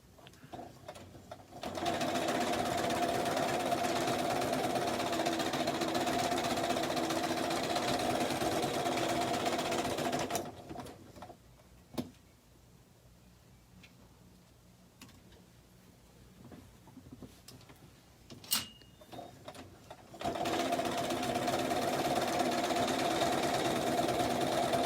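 A home sewing machine stitches a Liberty table runner in two loud, steady runs, with a quieter pause between them that holds a few small clicks and taps.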